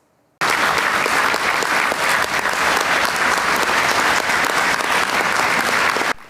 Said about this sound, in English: Enthusiastic applause and a standing ovation from delegations at the AUA Convention Center for the volunteers at the event